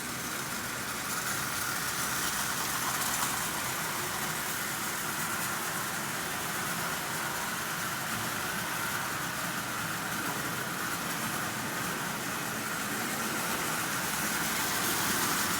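A Marx Commodore Vanderbilt toy train locomotive pulling three articulated Marx cars runs continuously in a steady, even whirring rumble with constant loudness and no pauses or voices.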